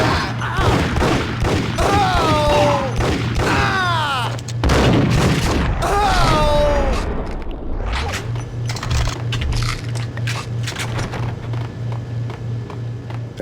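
Rapid bursts of gunfire crackle through a Max Payne shootout, dense volleys in two clusters with a pause between, under a steady low hum and a shouted voice.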